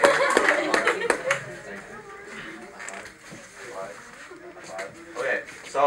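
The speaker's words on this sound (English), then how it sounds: "so I just give him one more round of applause" A high school class claps in a short burst that quickly thins out, followed by murmuring and a voice talking over the quieting room.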